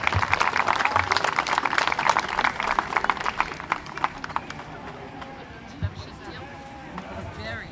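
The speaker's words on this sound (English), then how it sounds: "give them all one big round of applause as they exit the room" County fair sheep show audience clapping loudly for young showmen leaving the ring, dense applause that thins out and fades to scattered claps and room noise, with some voices underneath.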